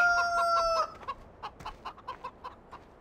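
Farmyard chickens in the video game Farming Simulator 2013 cluck in a quick run of short, evenly spaced calls that follow a brief crowing tone at the start.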